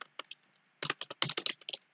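Someone types on a computer keyboard in quick, close bursts of clicking keystrokes, a few isolated taps followed by a rapid run of keys, with no talking.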